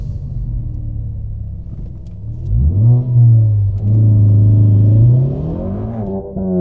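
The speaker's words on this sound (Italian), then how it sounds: "Sentiamo il motore." A Ford Focus ST, a front-wheel-drive turbocharged hot hatch, idles with a low rumble, then its engine is revved up sharply, holds a loud, steady high note, and drops back toward idle, close and clear with no talking.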